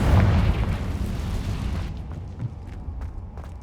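Confringo spell explosion in the video game Hogwarts Legacy, a loud, close boom with a broad rumbling burst that fades over a couple of seconds into a low crackling tail, with no voices.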